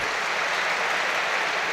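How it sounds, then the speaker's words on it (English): Stadium crowd applauds during Tottenham Hotspur versus Burnley, a Premier League football match, a continuous wash of clapping and crowd noise heard from within the stands. "Applause for João Palhinha"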